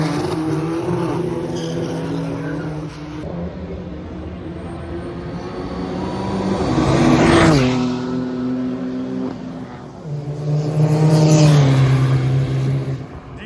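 Drag racing cars, a diesel Polo among them, launch and roar down the strip, with engine notes rising and falling and two loud passes swelling and fading as they rev away.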